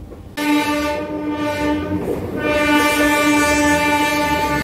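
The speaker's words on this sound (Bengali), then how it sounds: "প্রায় 5 ঘন্টা লেটে আজকে এই এখন 1:45 রাত্রির এখন ট্রেন ঢুকাচ্ছে হাওড়া" The 22893 Sainagar Shirdi–Howrah SF Express pulls into Howrah station late at night, a loud steady rumble of train cars with a continuous horn blaring throughout.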